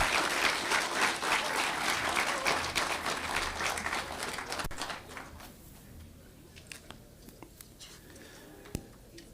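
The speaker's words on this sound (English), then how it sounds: "A big applause, please, for the Vice Chancellor." Audience applauding the Vice Chancellor at a youth climate-finance event, a loud dense round of clapping that fades after about five seconds into scattered individual claps and room noise.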